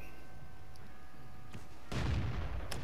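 An SU-5 artillery gun in World of Tanks fires a single loud, booming shot partway through, with a rumbling tail over steady low engine noise.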